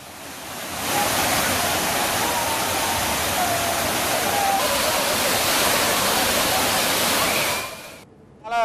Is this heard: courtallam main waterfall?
yes